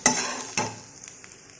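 Two sharp metallic scrapes of stirring in a hot kadhai as onion fries golden brown, followed by a soft sizzle that fades and lingers quietly, with no voices.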